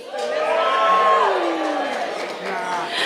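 Wedding reception guests cheering and whooping as a crowd, a loud, sustained roar of voices nearby with a few shrill shouts rising above it.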